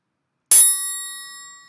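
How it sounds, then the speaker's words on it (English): A cheap store-bought holiday triangle is struck once, giving a bright metallic ding that rings on with clear, high overtones and fades slowly. "Last but not least, we have the triangle."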